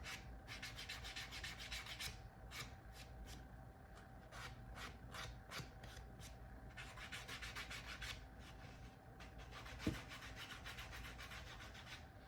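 Sandpaper rubbed by hand along an edge, quiet close-up scratchy strokes repeated in a quick, fairly regular back-and-forth rhythm, with a brief knock near the end.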